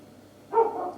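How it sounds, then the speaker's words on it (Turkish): A single short dog bark, fairly close and moderately loud, rises over a quiet indoor room tone for about half a second in a home kitchen. "Köpek susmuyor."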